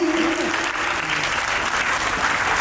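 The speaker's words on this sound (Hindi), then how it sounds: "प्लीज पेरेंट्स तालियां जोरदार होनी चाहिए" Parents at a preschool annual day applaud a visiting police station officer, a loud continuous burst of crowd clapping with a voice briefly audible at the start.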